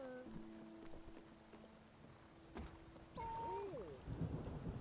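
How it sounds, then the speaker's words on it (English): Thunderstorm in the video game Spiritfarer, a steady wash of rain with a sharp crack of thunder near the middle and a heavier rumbling burst toward the end, while tonal game sounds glide over the storm. "This is what I call a storm."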